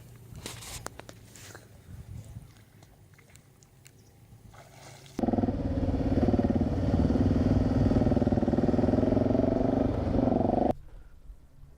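Motorbike on a touring ride from Austria to Slovenia, quiet outdoor ambience and light rustling at first, then the engine cuts in loud and steady for several seconds of close droning before abruptly dropping away.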